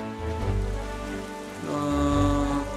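Persistent rain in The Legend of Zelda: The Wind Waker HD hisses beneath shifting game music chords, growing slightly louder midway, with a faint low rumble and no voices.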